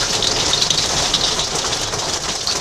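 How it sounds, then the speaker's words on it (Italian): Hail pelts down on a camper in a loud, dense, unbroken clatter of hard strikes on the roof, steady throughout with no voices. "guarda grandine"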